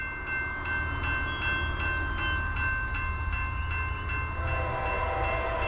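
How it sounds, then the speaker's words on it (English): A CSX freight train, M403, rumbles steadily past close by, a constant heavy roar with metallic squeal and rhythmic wheel clatter, loud throughout. "Second train of the day, CSX M403."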